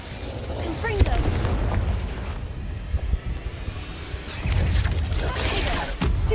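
Confringo blasting spell in Hogwarts Legacy bursts with deep rumbling booms amid a busy clash of spell effects, layered under continuous background game noise.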